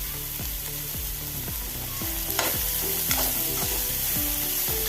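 A bitter gourd stir-fry is stirred in a pan with a steady sizzle, while the spoon scrapes the pan in a regular rhythm of repeated strokes, close and fairly loud, with no voices.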